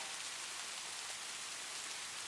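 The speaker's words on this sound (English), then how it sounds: "before dissolving back into the general chorus of raindrops." Steady rain falls in a dense hiss of countless raindrops, an even wash of sound with no distinct drips and no voices.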